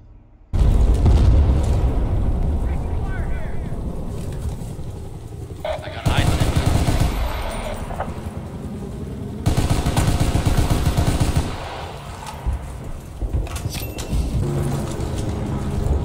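AEK-971 assault rifle fire in Battlefield: Bad Company 2 multiplayer: sustained loud gunfire and explosion booms throughout, with voices talking over the battle.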